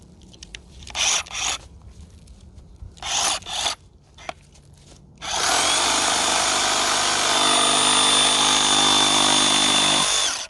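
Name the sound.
DeWalt 20V XR brushless reciprocating saw cutting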